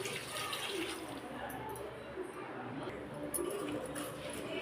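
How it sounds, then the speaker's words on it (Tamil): Water is poured into a cooking pot for chicken 65 biryani made with soaked basmati rice, a steady splashing wash of sound heard alone at moderate volume with a low background hum. "அதுக்கு 6 கப் தண்ணி சேர்த்துக்கிறேன்."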